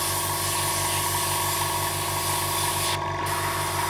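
An Iwata Revolution HP CR airbrush sprays paint at 20 psi, giving a close, continuous airy hiss over a steady humming drone from the air supply, with a brief dip near the end.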